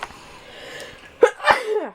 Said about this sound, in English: I'm gonna sneeze, guys.